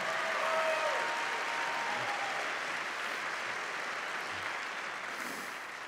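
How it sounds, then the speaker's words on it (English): A church congregation claps and applauds steadily and loudly throughout, a dense wash of hand claps that tapers slightly toward the end. "Clap your hands and praise Him if you know I'm preaching the truth today."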